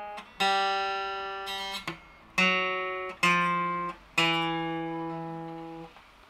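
A requinto guitar plays a slow scale, five or six plucked notes ringing clearly one after another, each sustaining and fading before the next, close and alone.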